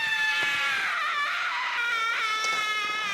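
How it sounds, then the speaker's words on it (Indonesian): A high, wavering wail like a woman screaming holds for several seconds, loud and close, rising and falling with a strained, tonal edge. "ada suara wanita teriak"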